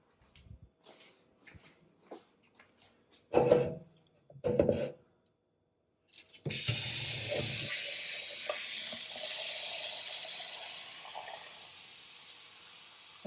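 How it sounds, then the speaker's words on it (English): A tap runs into a cooking pot holding potatoes and eggs, a steady rushing hiss that carries on for several seconds after a few short bursts and clunks of handling. "Gonna get that filled with water."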